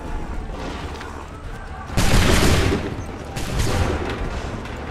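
A volley of muskets fires in the Assassin's Creed III game as a loud, dense burst of overlapping shots, then a second, somewhat softer volley. A steady battle din runs underneath, with shouted commands nearby.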